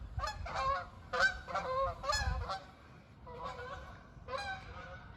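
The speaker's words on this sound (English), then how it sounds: "Here come the geese. They know what to do." A flock of geese honking repeatedly overhead in overlapping bursts, loud and close at first, then a brief lull before more honking resumes.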